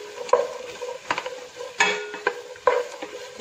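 Vegetable pulao being stirred in a pan: a close spoon scrapes and clinks against the metal at irregular intervals, with a soft cooking hiss underneath and no voices.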